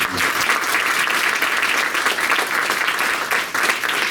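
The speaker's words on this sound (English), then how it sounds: "So let's give it a big applause for both of them." Loud, dense audience applause at an arts hall of fame induction ceremony, a full continuous roar of many hands clapping that holds steady throughout without speech.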